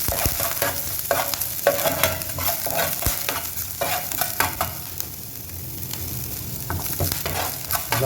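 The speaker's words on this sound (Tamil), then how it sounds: "ஓகே, ஃப்ரை பண்ணிக்கோங்க." Chicken roll snacks sizzle in hot oil while being stirred, steady frying hiss broken by repeated scraping and clinking strokes of a utensil against the pan, close and fairly loud.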